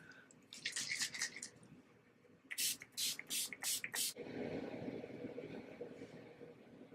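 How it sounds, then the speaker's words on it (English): Two clusters of short, bright hissing spray bursts from Urban Decay De-Slick Oil Control makeup setting spray, a few quick pumps early on and a louder run of five later, close to the microphone. "we're going to take the Urban Decay De-Slick Makeup Setting Spray Oil Control"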